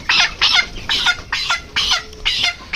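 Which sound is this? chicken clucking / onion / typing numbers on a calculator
chicken clucking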